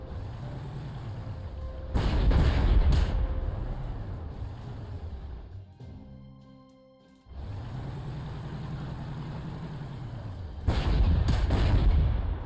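Artillery salvos in the Panzer Corps 2 strategy war game, booming in loud bursts at the start and again near the end, with rumbling mechanical engine noise and a brief quiet dip between the blasts.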